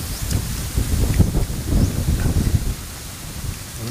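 Gusty wind blows outdoors in a rural setting with cool breezes, rumbling and buffeting the microphone in uneven surges that ease off toward the end, with no talk.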